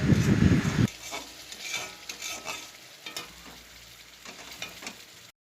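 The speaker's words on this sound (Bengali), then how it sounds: "নুন দিয়ে ভালো করে নেড়েচেড়ে নেবো যতক্ষণ না মশলাটা তেল ছাড়ছে" Spice paste with salt is fried in oil and stirred. A loud sizzling rush opens, then a gentler frying hiss continues under intermittent scraping strokes of the spatula, heard up close.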